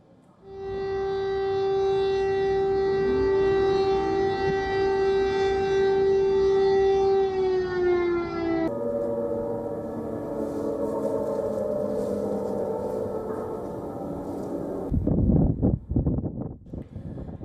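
A wailing air raid siren in Kyiv holds a long steady tone, then shifts and fades under rumbling wind noise, with a burst of loud crackling near the end.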